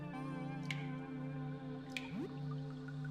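Water dripping from a pipe in the video game Look Outside, single drops against a steady low hum, with a sharp drip near the start and another about two thirds through.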